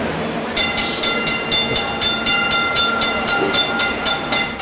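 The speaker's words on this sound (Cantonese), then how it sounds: "電車亦都響號" A Hong Kong tram sounds its warning in mourning with a fast, evenly spaced series of ringing tonal strikes, loud and close, repeating steadily over a low rumbling background.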